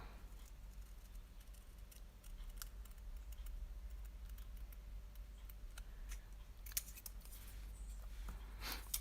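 Scissors cutting a line into a fabric or paper bowl piece, faint close snips scattered over a quiet room hum, with a few sharper clicks near the end.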